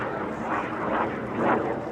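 An L-29 jet passing at an airshow, a rumbling engine roar that swells twice as it goes by at moderate distance.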